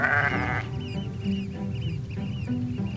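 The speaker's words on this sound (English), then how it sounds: "their bleating is a constant auditive companion when traveling around the islands." Small, hardy free-roaming Faroese sheep bleat in a quick loud cry at the start, followed by fainter, more distant bleats over open countryside.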